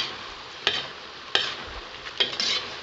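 Pork menudo sizzles in a pan as it is stirred with liquid seasoning, a spoon scraping the pan in several sharp strokes over a steady frying hiss.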